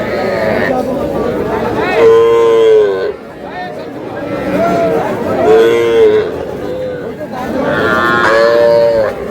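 Young bulls and heifer calves moo repeatedly at Aftabganj cattle market, loud and close, with long drawn-out calls rising over a background murmur of people chatting in a busy crowd.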